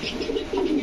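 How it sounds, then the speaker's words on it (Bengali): A silver racer pigeon with green eyes gives a brief, close, soft throaty coo in two quick low pulses. "এটা গ্রিন চোখের কবুতর।"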